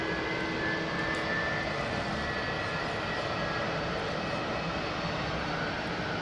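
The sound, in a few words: airliner with Rolls-Royce Trent XWB jet engines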